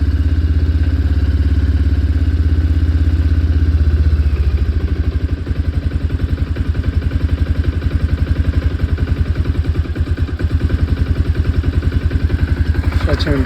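A small engine, just started and running with the choke off after a carburetor adjustment, idles steadily with a fast rhythmic putter and clatter, loud and close for the whole stretch.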